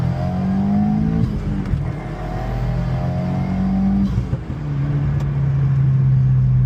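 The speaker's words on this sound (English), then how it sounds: "We'll do a little second gear pull. See how fast it spools up." A big-turbo 2022 Subaru WRX pulling hard in second gear, its engine note rising steadily under load with a brief dip at a shift before climbing again, loud and close from inside the car.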